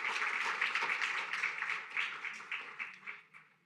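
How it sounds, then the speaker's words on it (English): Audience clapping at a World Bank report launch, a dense, steady round of many hands that holds for several seconds and then gradually thins and fades out. "and the entire team a big round of applause"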